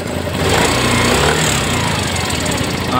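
A Yamaha Mio 125 scooter engine running close up, with a steady rattling, ticking knock in its idle.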